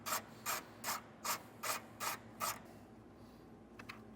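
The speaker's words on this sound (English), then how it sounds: "Take that nut off." A ratchet wrench loosening a nut on a ground stud, heard up close as seven evenly spaced clicking bursts, followed by a few faint metallic ticks and no talking.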